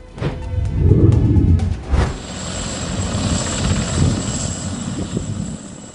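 A helicopter flies during a joint military and police evacuation of construction workers in Mimika, Papua. A loud, steady rotor and engine drone sounds close by, with buffeting wind noise at the start and no voices.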